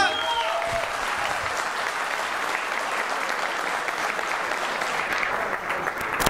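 Sustained applause from wedding guests for the newlyweds, a dense steady wash of clapping hands that fills the room for several seconds, close and fairly loud.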